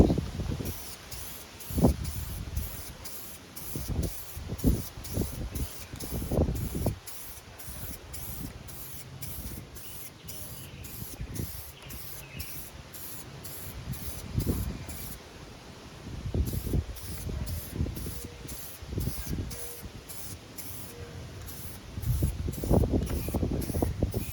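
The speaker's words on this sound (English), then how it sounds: "I'm gonna have to blow that off with the air hose." Compressed air from an air hose blows off a freshly painted Kia door in a string of sharp hissing bursts, some short and some longer, close and fairly loud, with no talking.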